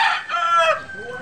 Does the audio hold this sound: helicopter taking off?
no